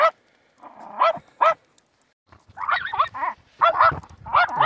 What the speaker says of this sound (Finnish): Ja tuossa on tossa kohtaa on koira.